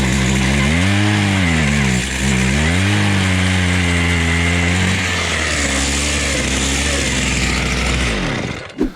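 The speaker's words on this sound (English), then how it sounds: "so I'm going to drill a hole right next to him." A gas-powered ice auger drills through frozen pond ice, its engine roaring loud and close. The pitch rises and dips as the bit bites through the ice, and the motor revs down at the end.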